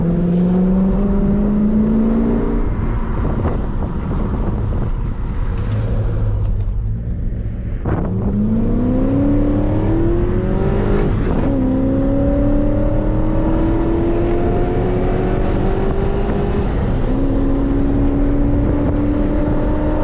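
A BMW E34 with a worn engine on borrowed time, driven hard on the road: steady loud engine drone with rising revs through several gear changes, and no talking.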